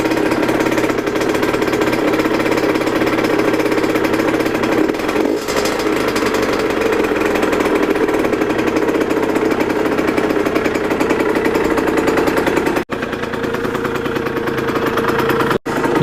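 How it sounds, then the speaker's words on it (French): A motorcycle engine idles steadily right after its cylinder was replaced, a constant close mechanical chug with a fast rhythmic tick, holding an even level for the whole stretch apart from a brief drop near the end. "il va falloir laisser tourner pendant 5 minutes la moto"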